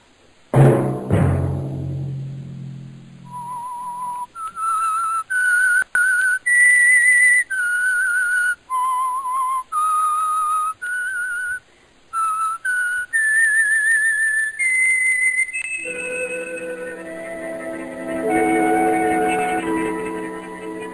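A loud opening chord gives way to a clear whistled melody of short, distinct notes, ending as an orchestra swells beneath the final whistled line.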